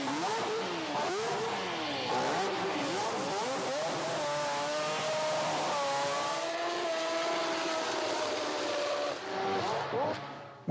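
A tuned drag race car with a slipping clutch and fresh spark plugs revs hard on the track. The engine pitch rises and falls in repeated surges, then holds a loud sustained roar close by, with crowd and track noise underneath.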